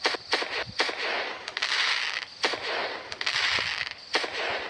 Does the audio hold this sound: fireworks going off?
yes